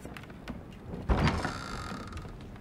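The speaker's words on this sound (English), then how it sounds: "Whoa, which door opened? I heard a door open." A door opening in the Dying Light video game, heard as a mechanical sliding and scraping movement that swells suddenly and then drags on with a low rumble, at moderate loudness and without talk.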